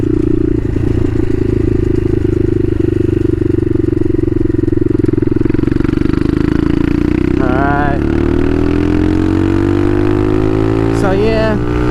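Bashan Motomax 250 supermoto motorcycle ridden at night, its single-cylinder engine droning steadily and loudly up close, pitch slowly climbing as it accelerates, with brief rising shifts through the gears near the end.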